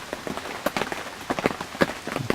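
Rain from Hurricane Florence falls around a hunting blind as a dense, irregular patter of drops. Louder splats and taps stand out against a steady hiss, close and uneven throughout, with no voices.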